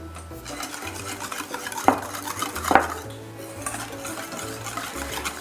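Custard batter of rice or tapioca flour and eggs is mixed in a bowl, with repeated close clinks and scrapes of a utensil against the bowl, two sharper knocks standing out, over a soft low hum.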